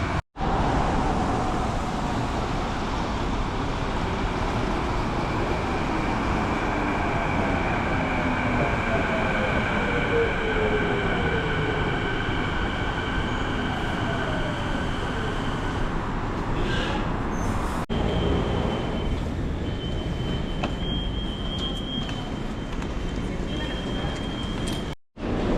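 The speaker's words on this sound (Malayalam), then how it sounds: "സ്കൈ ട്രെയിൻ എടുത്ത് പോകാമെന്ന് വിചാരിച്ചു" A Vancouver SkyTrain runs with a loud, steady rumble and rising whine, then brakes and settles near the end as doors and station noise take over.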